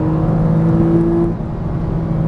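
Porsche Cayman S engine on a track, a close steady drone with tonal whine that holds then eases slightly as throttle changes, loud and continuous with no speech.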